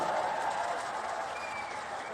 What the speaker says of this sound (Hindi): जोर से एक बार ताली बजाकर स्वागत करिए हमारे सांसद का